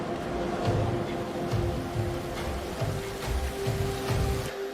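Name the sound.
rain falling at sea, Vikings TV episode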